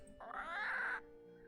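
A bird call from the video game Nancy Drew: Curse of Blackmoor Manor: a single sustained, warbling tonal cry lasting under a second, clear and fairly quiet against a near-silent background.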